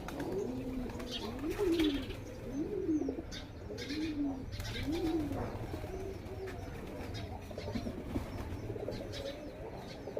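Pigeons coo repeatedly in a new village cage, several rolling calls rising and falling close by over rustling and faint chirps, with soft background noise.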